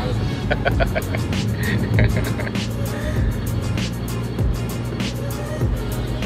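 A 2004 Suzuki Karimun with a carburetor, freshly tuned, cruising in fourth gear at about 60 km/h; a steady, loud engine drone with road and wind noise fills the cabin continuously.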